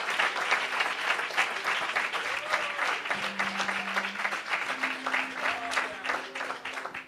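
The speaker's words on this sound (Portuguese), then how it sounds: "Uma salva de palmas para esses formandos" Sustained applause from a church congregation at a 2022 graduation ceremony, dense and steady for the whole stretch, with a faint held tone and murmuring mixed in underneath.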